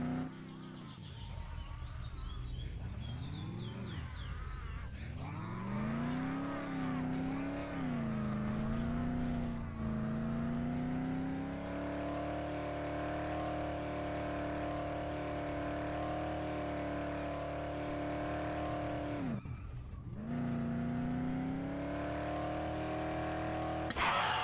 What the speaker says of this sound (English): I kind of recognize those car sounds